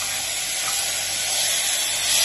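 Green peas hit a hot pan for matar pulao, giving a loud, close, continuous hissing sizzle with no voice over it.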